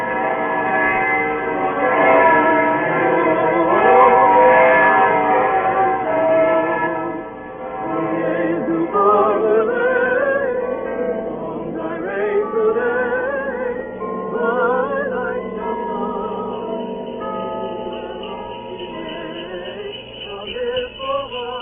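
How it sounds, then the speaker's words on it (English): Church bells ring high in a tower on a snowy evening, a loud, sustained clangor of overlapping tolls with shifting pitches that carries throughout and is never broken by speech. "the evening bells began to ring high up in the Staple Tower"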